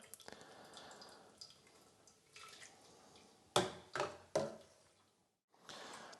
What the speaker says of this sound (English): And you just want to carefully ladle it into your strainer.